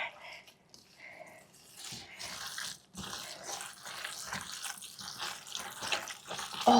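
Water running from a kitchen tap during handwashing, an uneven splashing gush with squishy lathering sounds, moderately close and fairly soft.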